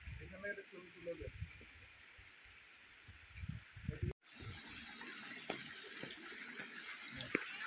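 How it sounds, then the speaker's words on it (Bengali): Water trickling through gaps between rocks near a living root bridge in Meghalaya: a steady low rush that runs under people talking, then grows louder and continuous after a brief cutout. "এই পাথরগুলোর ফাঁক দিয়ে যে জল যাচ্ছে, সেটার আওয়াজ পেয়ে আমি ভাবছিলাম এখানে কোনো ফলস আছে বোধহয়।"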